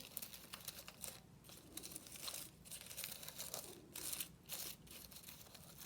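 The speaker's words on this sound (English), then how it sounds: "let's crumple those up in the middle" Recycled magazine paper being crumpled by hand, a continuous crinkling and rustling with irregular crisp crackles and small tearing-like bursts, close and fairly quiet, no voices.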